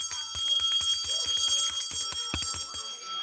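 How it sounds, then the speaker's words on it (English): Someone rings a bell to open a livestream, producing a sustained bright metallic ringing with a steady tone and many rapid repeated strikes throughout. The sound is loud and close, with no talk. "I'm just going to ring the bell here for YouTube as well."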